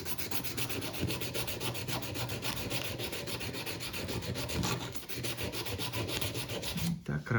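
Hand sanding of metal with sandpaper: steady, close back-and-forth rasping strokes run continuously in an even rhythm, then stop abruptly near the end.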